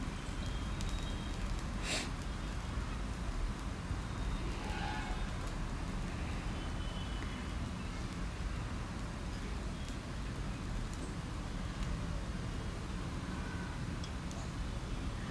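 Sabudana thalipeeth, a sago flatbread for fasting days, roasts on a pan, cooked on both sides. A steady, soft crackling sizzle runs throughout the clip without a break.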